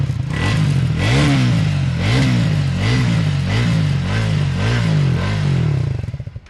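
A Triumph Speed 400 motorcycle engine revs repeatedly in a steady rhythm of rising and falling pulls, each blip ending in a raspy, crackling exhaust note. It is loud and close, with no talking.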